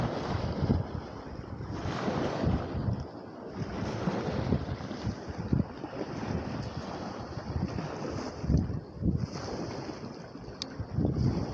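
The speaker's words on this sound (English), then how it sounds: "Got the waves breaking" Windy lakeshore with waves breaking steadily against the shore, a continuous loud wash of surf and gusting wind noise buffeting the microphone throughout.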